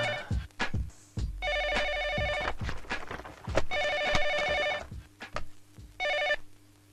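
A telephone bell rings in three separate bursts of trilling rings. Thumps and footsteps sound in the gaps between the rings, indoors and fairly quiet.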